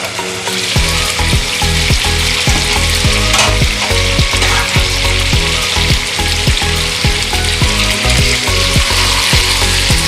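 Duck meat frying in oil in a pot for duck curry with potato, a loud dense sizzle with rhythmic scraping clacks of a spatula stirring throughout, no speech.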